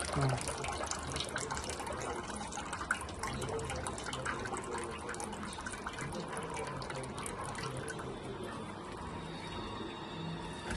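Water trickles and splashes steadily as it drains from soaked rice flakes through a strainer, a close, continuous patter of running liquid.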